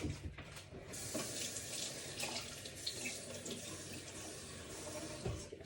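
Tap water runs into a sink to rinse fresh herbs, a steady close splashing stream that changes slightly as the herbs are moved under it, with no talk.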